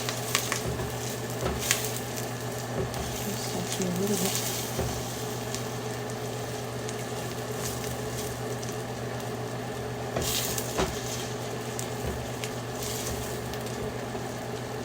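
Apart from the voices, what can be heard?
food frying in a pan for egg sauce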